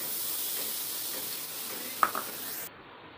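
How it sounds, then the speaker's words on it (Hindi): Jaggery heats in a pan for a sweet modak filling, a soft continuous sizzle and hiss with one sharp clink of a spoon against the pan as it gets stirred, then the sound quiets. "ये देखिए गुड़ गर्म हो रहा है, इसको मिला देंगे।"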